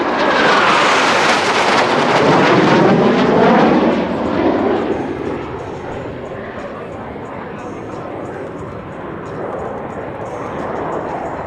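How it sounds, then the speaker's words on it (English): Blue Angels jets roar loudly overhead at an air show, a broad rushing engine noise that swells, then fades into a steady distant rumble while an announcer speaks over it. "observe as both pilots sustain 6 times the force of gravity to cross their aircraft over show center"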